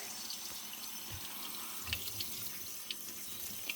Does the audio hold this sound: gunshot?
no